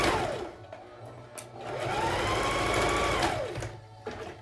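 A sewing machine stitches a dart on a fabric face mask, whirring up in a short run after a few clicks, staying close and steady for about two seconds, then slowing to a stop.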